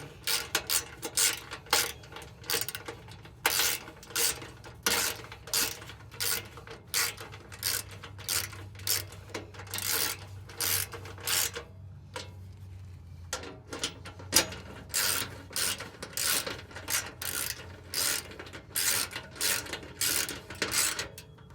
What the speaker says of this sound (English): Grab your 3/8 drive, 12mm socket, and just snug it up.